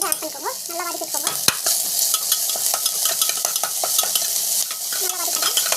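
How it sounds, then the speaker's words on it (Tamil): Peas, mint, cashews, green chili and tomato paste sautéed in a pan give a steady close sizzle with repeated stirring scrapes and occasional spoon clinks, continuous for the whole stretch. "நல்லா வதக்கணும்."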